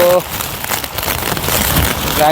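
Heavy monsoon rain pours steadily in a village in Banaskantha, Gujarat, during a storm, a dense continuous hiss of drops hitting surfaces close by, with brief traces of a voice at the start and end.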